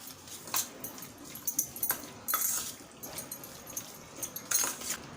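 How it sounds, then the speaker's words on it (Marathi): Chicken liver being mixed with salt in a bowl for a liver fry, giving soft wet squelches and clinks of a utensil against the bowl, irregular bursts close by with no talk. "चवीनुसार मीठ टाकूया आणि छान असं मिक्स करून घेऊया।"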